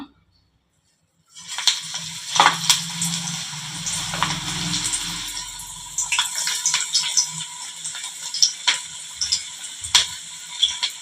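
Pakoda batter dropped into hot oil on a medium flame, with a broad sizzle swelling after a quiet start and small irregular pops and crackles spreading through the frying.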